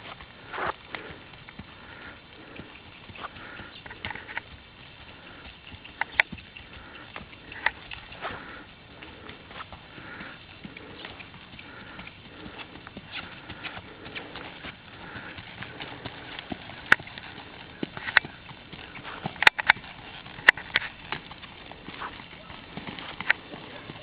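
A horse walking on a ride-back, hooves clip-clopping in a steady, light rhythm at moderate distance, with people talking nearby and a few sharper knocks toward the end.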